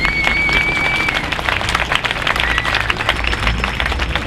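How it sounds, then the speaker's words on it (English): An audience claps at an outdoor Occupy London Stock Exchange gathering, a dense, steady patter of many hands close by and sustained throughout, with a faint high whistle-like tone early on. "Personally happy to see how many hands were clapping at the word redistribution there."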